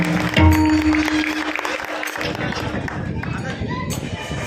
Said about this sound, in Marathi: म्हणून परत एकदा आई वडिलांसाठी जोरात टाळ्या होते